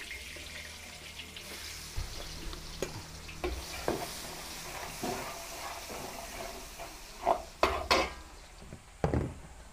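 Garlic sautés in hot oil for a Filipino graduation-party dish, a faint steady sizzle broken by scattered clinks and scrapes of stirring, with a few sharper clatters near the end.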